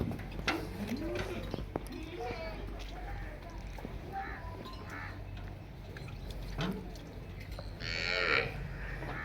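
A Cholistani Friesian cross dairy cow in Pakistan, slightly weak after losing her calf, lets out drawn-out moos amid farmyard ambience, while people talk nearby and a crow caws faintly.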